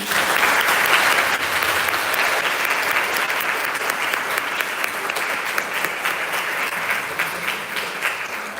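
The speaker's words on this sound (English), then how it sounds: "The motion on the floor is to give a round of applause to the EIT" A general assembly at a symposium in Morocco claps steadily for the whole stretch, a dense, even round of applause from many hands that fades only slightly toward the end.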